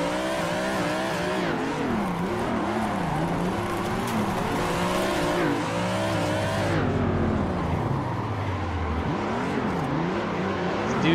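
Drifting cars in the racing game Assetto Corsa, a Supra and E30s in tandem, with high revving engines rising and falling through gear shifts and steady tire squeal, loud and continuous.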